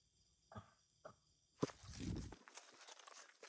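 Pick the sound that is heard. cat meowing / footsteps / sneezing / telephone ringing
footsteps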